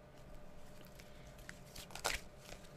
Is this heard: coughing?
no